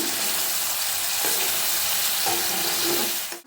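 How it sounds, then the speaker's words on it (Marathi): River fish simmering in boiling water in a pan, gently turned with a spoon; a steady broadband bubbling hiss runs throughout with a few soft spoon scrapes, ending in a brief dip. "आता हे मासे आपण असे हे पलटी करून घेऊ आणि अलगद करायचे जास्त जोर नाही लावायचा"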